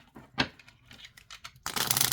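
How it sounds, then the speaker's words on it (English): A deck of pocket oracle divination cards is shuffled close up, giving soft scattered card slaps and then a dense riffling burst near the end, with no talking over it. "All right, so let's see how it shuffles."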